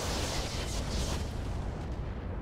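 Weapon fire and explosions from a Roguetech video game battle at night roar as one continuous heavy blast, a dense booming rumble that stays loud for a couple of seconds with no voices.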